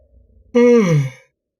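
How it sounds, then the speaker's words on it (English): A single human yawn, close and fairly loud, rising and then sliding down in a voiced, drawn-out breath that lasts about half a second before silence. "I don't know why I yawned"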